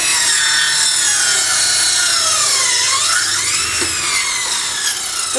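Lidl Parkside saw blade cutting wood while the blade swells up, giving a steady, loud, harsh rasping whine with a pitch that sags and rises midway and no speech.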